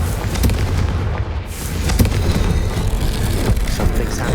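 Confringo spell detonating in Hogwarts Legacy, a loud booming blast with a brief dip, then rumbling crackle and scattered impacts that continue to the end.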